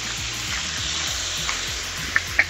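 Fresh fiddleheads fry in a hot pan with black pepper, a steady close sizzle and crackle running throughout with a couple of sharper pops near the end.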